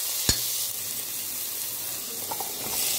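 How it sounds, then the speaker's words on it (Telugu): Capsicum fries over a medium flame in a pan with ginger garlic paste, turmeric and salt, a steady close sizzle throughout with a sharp clink of stirring near the start and a few faint taps later. "క్యాప్సికమ్ వేసుకోవాలండి. మీడియం ఫ్లేమ్లో పెట్టుకోవాలండి."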